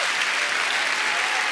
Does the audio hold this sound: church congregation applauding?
yes